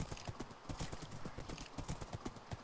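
Rapid, steady hoofbeats of a horse galloping in a video game, a dense clattering rhythm running throughout at close range.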